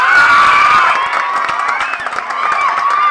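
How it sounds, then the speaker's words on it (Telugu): An audience at a magic awareness show for National Magic Day erupts in loud, continuous cheering and shouting mixed with clapping, a dense crowd roar filling the whole moment. "ఒక్కసారి చప్పట్లు కొట్టారా, ఆపేశారా?"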